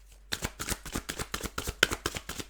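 A deck of cards is shuffled in a rapid series of about a dozen crisp riffling bursts, close and fairly loud, with no talking.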